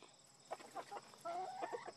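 Backyard chickens cluck softly in short, scattered calls, close by and faint against a quiet background with a light steady hiss.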